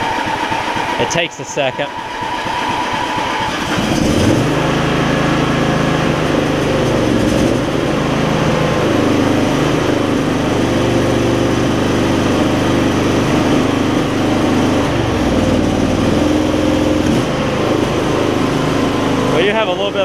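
An MTD Lawn Chief garden tractor with a Hi Lo Varidrive transmission, needing a carb clean, cranks over and fires, then settles into a steady, loud close-up engine run, with a person talking briefly.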